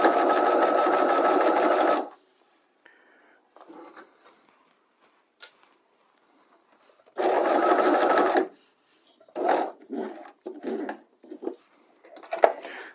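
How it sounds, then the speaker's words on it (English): A sewing machine stitches a patch pocket in two steady bursts of rapid mechanical whirring, separated by quiet pauses filled with small clicks and handling noises as the fabric is turned at a corner. "I'm going to put my needle down, stop, put my foot up, turn, put my foot back down and continue stitching."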